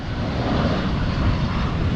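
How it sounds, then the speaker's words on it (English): A Delta airliner arriving over a beachfront in Aruba gives a steady, loud, broad engine roar that holds evenly throughout with no talking. "Here's another plane"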